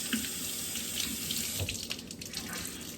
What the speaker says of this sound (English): So now I'm going to take just a linen napkin and get it wet.